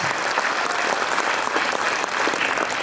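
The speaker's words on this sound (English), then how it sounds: "Give them a big round of applause." An audience at a celebration for India Skills Competition medal winners claps in a dense, steady round of applause, loud and even throughout with no voices on top.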